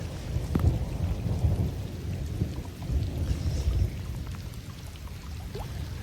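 Thunder rolls in low, sustained waves during a summer storm at a lake, with steady rain pattering close by throughout and no voices.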